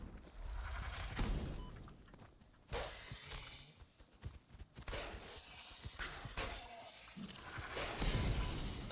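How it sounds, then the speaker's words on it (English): Plasma launcher fire in the Factory video game: repeated harsh bursts and clattering impacts crowd a dense, noisy mix that swells and dips throughout, with no one talking. "who's shooting at me? Ugh. Are they the plasma launchers?"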